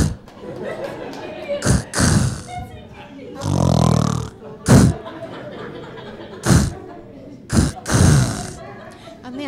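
On stage, a comedian mimics a snore like a stalling engine: a series of short, loud sputtering bursts and one longer rattling gulp, separated by brief pauses.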